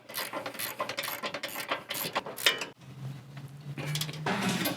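A series of rapid metallic ratchet clicks comes from tightening the upper control arm bolts during an Ironman 4x4 suspension install on a 2021+ Ford F-150. Up close, the clicks come in quick bursts, then stop, followed by a brief low whir and more clicking.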